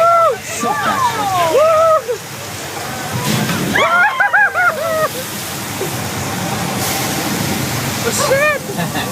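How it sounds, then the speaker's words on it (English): Recycled water released from large hillside tanks rushes downhill as a flash flood, a steady loud sloshing and splashing torrent running throughout, with people shouting and talking excitedly over it. "That flash flood was the result of thousands of gallons of recycled water released from large tanks located there at the top of the hill."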